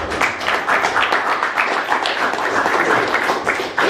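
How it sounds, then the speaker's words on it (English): Audience applause at a memorial eulogy for a stand-up comedian, a steady dense wash of many hands clapping that holds at an even level for several seconds. "Give them a round of applause."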